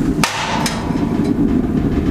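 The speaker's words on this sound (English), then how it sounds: "It sounds a bit like a rocket stove, which it is." Waste-oil stove, a rocket-style burner under a top-hat cover, burns with a steady low roar after being closed, loud and continuous, with a couple of sharp metallic knocks near the start.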